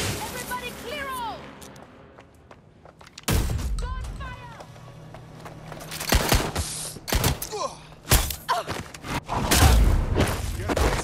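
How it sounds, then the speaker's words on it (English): Gunfire in the Watch Dogs: Legion video game: sharp bursts of shots and booming impacts arrive in clusters over the second half, loud and close, following an opening of chirping, sweeping electronic sounds. "Gunfire! This party started."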